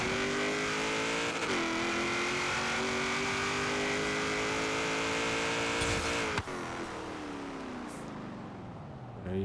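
A 1967 Chevrolet Corvette Stingray 427 in Forza Horizon 3 launches hard, its engine note climbing steadily under load through first gear, then dropping sharply at a shift before pulling again, loud and continuous with no talk.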